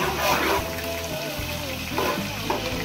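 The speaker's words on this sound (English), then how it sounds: "So I'm going to use this to fry my mixed vegetables." Mixed vegetables fry in melted butter in a pan for fried rice. A steady close sizzle and crackle is broken by brief stirring scrapes, with no talking.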